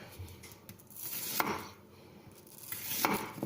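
A carbon steel kitchen knife chops through an onion on a board, a few separate chopping strokes with quieter pauses between them, close and moderately loud.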